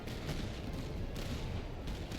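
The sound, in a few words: artillery fire in Master of Command video game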